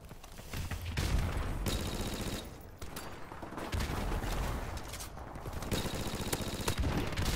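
Dense video-game gunfire rattles almost without pause, loud and close, rising and dipping in brief lulls, layered with other weapons and effects, with no talk.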